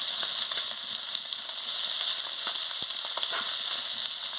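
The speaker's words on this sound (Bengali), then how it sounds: "পেঁয়াজ কুচি দিয়ে ভালো করে ভেজে নিচ্ছি" Chopped onion frying with small puti fish in a pan, a steady loud sizzle throughout with occasional soft stirring scrapes and no talking.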